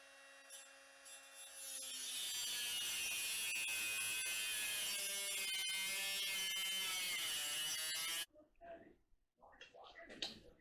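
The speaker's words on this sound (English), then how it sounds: "I'm just going to have to use the little disc cutter there and go really carefully." A small disc cutter grinds through a turbo exhaust pipe on a 1963 Beetle, a loud sustained high whine lasting several seconds before stopping abruptly, followed by faint workshop clatter.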